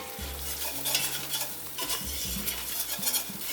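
Flour is stirred into hot fat in a pan to form a paste, with a soft continuous sizzle and scraping spoon strokes that come in uneven bursts, close and fairly quiet with no talking.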